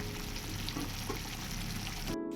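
Kashmiri chili powder and spices sautéing in hot oil in a pan, a steady close sizzle with faint stirring scrapes, running evenly before cutting off abruptly at the end.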